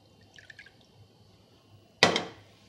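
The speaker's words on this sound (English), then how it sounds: "In a bowl, combine the vinegar," Vinegar is poured into a bowl for a vinaigrette, a short splashing burst near the end that fades quickly, preceded by a few faint light clinks in a quiet room.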